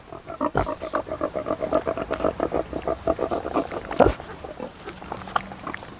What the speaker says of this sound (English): Their pigs are turned loose in the forest to forage on acorns and beech mast.